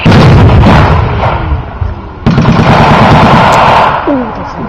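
Rapid loud bursts of gunfire and heavy booms from a World War II battle reenactment, with mortar fire among them, close and continuous, with faint shouting under the din.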